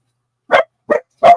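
Dogs bark three short, sharp times at a steady spacing, loud and close with silence in between.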